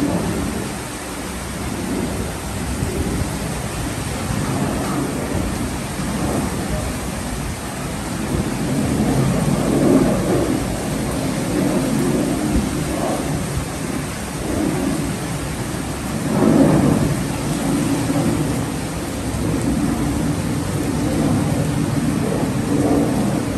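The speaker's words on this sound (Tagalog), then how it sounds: "Lakas ng ulan dito guys at may hangin pa." Heavy rain pours steadily with gusts of wind roaring through during a storm in Lapu-Lapu City, Cebu, swelling louder in waves; a continuous, close downpour with no talking.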